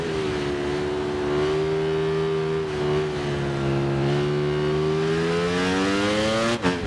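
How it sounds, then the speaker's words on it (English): A motorcycle on the Mugello circuit in Ride 6 revs hard, its engine holding a loud, smooth, rising howl close up, ending with a brief sharp burst at the finish. "Oh, you can hear it rev. It's absolutely gorgeous"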